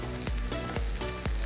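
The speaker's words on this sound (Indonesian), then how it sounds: "Oke, saatnya kita menumis. Tumis sebentar sampai sedikit layu." Papaya flowers stir-fry in a hot pan in a Manado-style dish, with a loud, continuous sizzle and periodic scraping stirs every half second.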